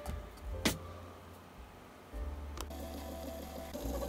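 A Ryobi 18V battery-powered sewing machine runs in short bursts, its low motor whir starting and stopping with a couple of sharp clicks, close and fairly quiet, with no talk.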